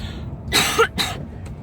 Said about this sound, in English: I've got a bit of a smoker's cough.